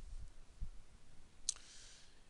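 A single faint, crisp mouse click on a button in the Joomla admin panel, heard alone against quiet room tone after a soft low thump.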